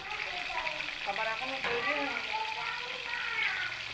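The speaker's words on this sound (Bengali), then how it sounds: "কুমড়োগুলো দিয়েও আমি একই রকমভাবেই লাল করে ভেজে নেব" Pumpkin pieces frying in hot oil for a vegetable khichdi, giving a steady close crackling sizzle with faint voices murmuring underneath.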